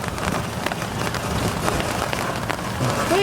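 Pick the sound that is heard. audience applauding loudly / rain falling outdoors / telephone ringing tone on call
rain falling outdoors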